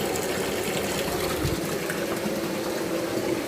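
Water gushes steadily from the overflow drain of a cement fish pond stocked for grouper fingerlings, a continuous close rushing flow with no talk, one brief heavier splash partway through.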